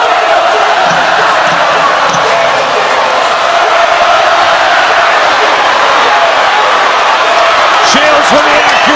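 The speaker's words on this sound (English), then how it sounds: "Listen to the crowd." A boxing arena crowd roars steadily through the late rounds of the Claressa Shields vs Savannah Marshall title fight, a dense, loud, unbroken wash of cheering and shouting with a few sharper yells rising near the end.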